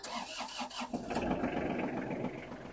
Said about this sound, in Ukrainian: Трактор у нас завівся з півоберту.